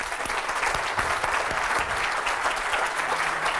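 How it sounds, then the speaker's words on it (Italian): An event audience gives a loud, dense round of clapping that fills the room and holds steady throughout, with no voices standing out. "al quale vi invito a fare un grande applauso"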